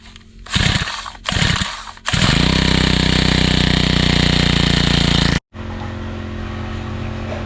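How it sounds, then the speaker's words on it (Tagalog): A gas-powered grass cutter trimming a field, the engine roaring in short revs before settling into a loud continuous drone, cutting out briefly and restarting near the end. "Dadalawa kami mag-grass cutter para madali."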